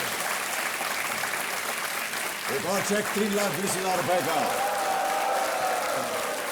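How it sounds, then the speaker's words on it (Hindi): A studio audience at the KBC quiz show applauds steadily throughout while a voice talks over the clapping. "तालियां बजती रहेंगी"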